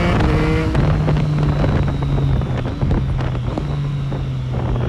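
A 2020 Triumph Street Triple 765 RS motorcycle with an SC Project exhaust roars at speed in a loud, steady engine drone with shifting pitch, heavy wind rushing over the microphone.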